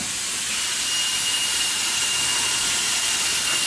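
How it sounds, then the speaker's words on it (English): Air tools in an auto repair shop where a Cadillac Escalade's front AutoRide shock strut is being replaced give a loud, steady broadband hiss and roar throughout, with a faint high whine, and no talking. "A lot of air tools in here, sorry about the sound"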